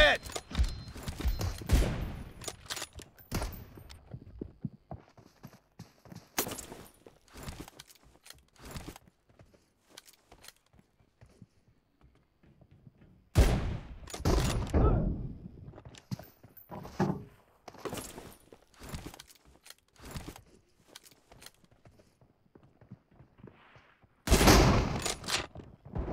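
Rapid gunfire crackles through a PUBG Mobile match, with dense volleys of shots in repeated bursts separated by quieter gaps, some loud and close, others thinner.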